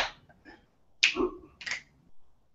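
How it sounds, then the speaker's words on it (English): A few separate, sharp hand claps, about three distinct hits with pauses between them, as two people try simple Gujarati Garba clapping during a relaxed hangout. "You clap. Both of you clap."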